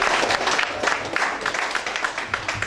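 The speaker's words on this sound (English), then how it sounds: "He deserves a round of applause for that." A round of applause at a chamber of commerce investors' networking lunch, a crowd clapping steadily at moderate distance with a faint murmur of voices underneath.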